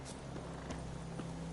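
Hooves of Roach, a horse in the video game The Witcher 3, clip-clopping at a walk, soft evenly spaced steps under a loud constant hum of game ambience.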